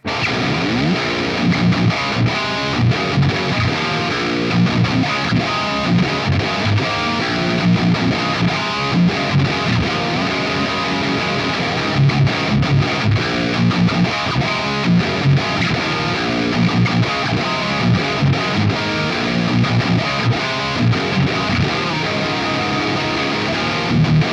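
Thick, heavily distorted electric guitar chugging through a Fractal high-gain amp model, down-tuned, dense and loud with continuous palm-muted rhythm riffing and no voices.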